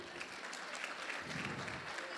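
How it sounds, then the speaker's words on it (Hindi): A gathered congregation at a devotional satsang in Akola claps to welcome the Vaishnavas, a fairly quiet but continuous patter of many hands from a mid-distance crowd. "सब वैष्णव का तालियों द्वारा स्वागत करिए।"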